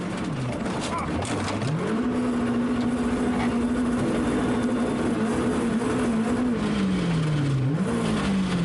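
Onboard a rally car at the 2015 European Rally Championship round in Liepāja, the engine drones loudly and steadily. Its pitch dips, climbs and holds, then sags as the car leaves the road for a ditch, with constant road and wind noise underneath.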